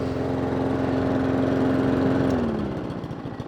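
A Mountfield SP454 lawn mower engine runs steadily and loud up close, then its pitch drops as it is throttled back toward idle near the end.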